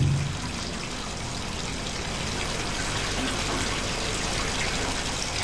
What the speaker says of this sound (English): Dr. Peter Schultz fills a small tank with water to see how the ocean would react.